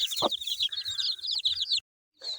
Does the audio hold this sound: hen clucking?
yes